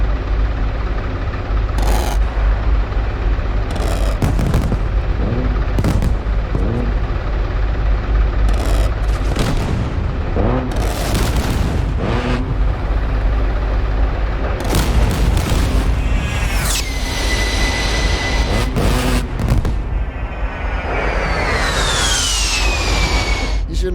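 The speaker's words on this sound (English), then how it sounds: "Ooh, explosions. A lot of secondaries." Booming explosions and rolling secondary blasts in DCS World, heavy and continuous, with sharp cracks, a swelling aircraft engine whine near the end and brief voices underneath.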